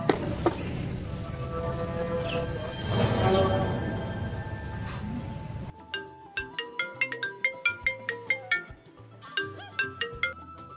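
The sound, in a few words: mobile phone ringtone ringing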